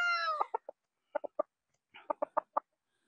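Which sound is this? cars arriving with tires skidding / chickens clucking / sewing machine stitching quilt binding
chickens clucking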